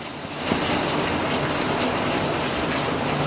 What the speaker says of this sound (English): This is a major rainstorm, people.